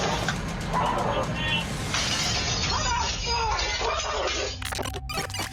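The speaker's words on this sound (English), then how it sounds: "her neighbor punches the window and breaks the glass, sending shards onto the driveway" A residential window's glass shatters under a punch during a heated neighborhood dispute, with shards spilling onto a driveway; loud crashing bursts near the end follow a stretch of raised voices and commotion.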